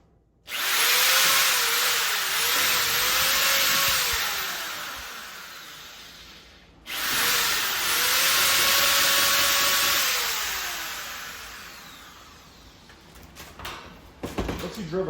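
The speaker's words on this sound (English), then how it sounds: "Then you start drilling." Power drill boring holes to mount an aftermarket eBay front lip on an MK7 Volkswagen GTI, two long loud whining runs with a brief break between them, then trailing off into quieter handling noises.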